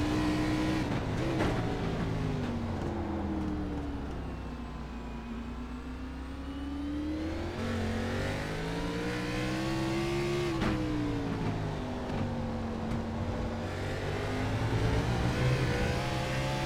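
Stock cars race at Brands Hatch, an engine roaring steadily with rising and falling revs through gear changes, loud and close as from on board, with no talk.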